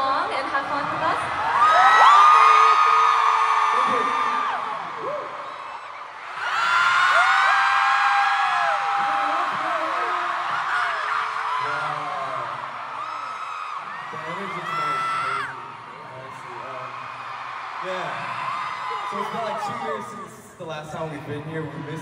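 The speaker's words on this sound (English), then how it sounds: "All this cheering, guys." A concert crowd at a world tour show in Chicago screams and cheers in loud sustained waves, with shrill high-pitched shouts, while voices talk over the noise.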